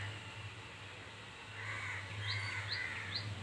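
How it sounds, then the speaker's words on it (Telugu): Crows cawing in alarm near their nests, a few sharp calls that rise toward the end over a steady low hum, fairly distant, with no talk. "కాకులు అయితే ఓ అరిచేస్తున్నాయి అన్నమాట."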